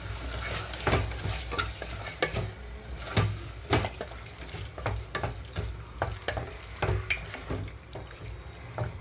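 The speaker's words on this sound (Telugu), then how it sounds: "క్లీన్ చేసి పెట్టిన చికెన్ అంతా ఇందులోకి వేసేసుకుంటున్నాను" Cleaned chicken pieces fry in a pan on a kitchen stove. The steady sizzle is broken by repeated scraping strokes as they are stirred, with occasional clinks of the utensil against the pan and no talking.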